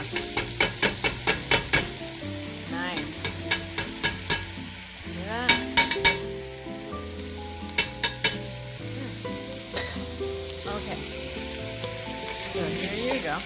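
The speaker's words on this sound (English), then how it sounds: "we saute them a little." Soaked brown lentils sauté in a pan with a continuous sizzle under a steady series of sharp utensil clinks and scrapes, with background music playing throughout.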